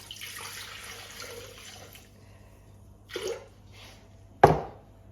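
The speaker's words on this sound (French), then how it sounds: "on va mettre 400 g d'eau dans le bol" Water poured into a Thermomix bowl for a vegetable duchess casserole, a steady close splashing stream for about two seconds, followed by a couple of sharp clunks from the bowl or lid.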